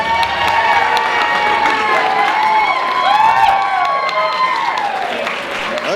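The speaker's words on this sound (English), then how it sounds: "let's give them a round of applause." Guests at a wedding reception break into loud, sustained applause mixed with cheering, whoops and children's excited shouts, all close and continuous.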